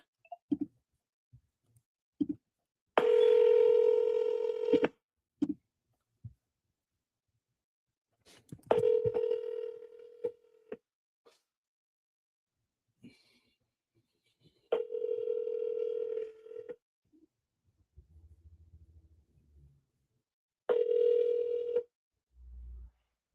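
Telephone call being placed: a sustained dial tone sounds in several long bursts separated by silences, with scattered clicks and soft handling noises close by.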